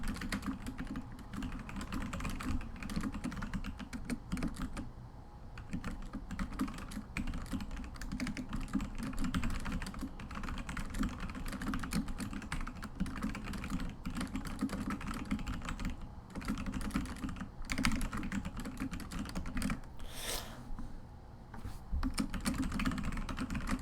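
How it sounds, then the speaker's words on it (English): Steady, dense typing on a computer keyboard runs throughout, close and continuous, with rapid clustered keystrokes and no talking. "I gotta type something here."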